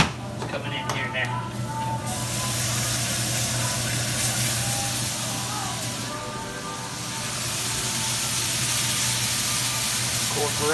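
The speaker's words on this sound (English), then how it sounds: "Incorporate that stock in there, that shrimp stock with that roux and the Trinity" Shrimp stock poured into a roux with onion, celery and bell pepper for shrimp étouffée, giving a steady hiss and sizzle in the pan with stirring, continuous and close throughout.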